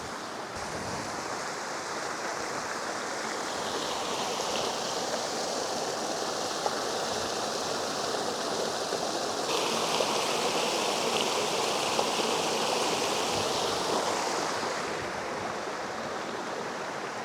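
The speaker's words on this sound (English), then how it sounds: "I could sit and watch running water all day long" Steady rushing water of a mountain stream in Crowden Clough, Peak District, pouring continuously and fairly close with a broad hiss that swells slightly midway, no voices over it.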